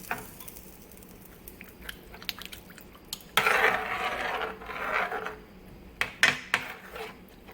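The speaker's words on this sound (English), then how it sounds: "Get my metal spoon here. And I'm just going to stir that up." A metal spoon stirring brown Salisbury steak gravy in a pan, with faint scraping and clinking against the pan, a louder scrape burst midway and a few sharp taps near the end.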